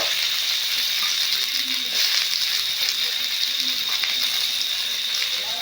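Chopped onions and green chillies fry in hot oil in a wok, making a loud, continuous hissing sizzle with faint crackles that stays even from start to finish.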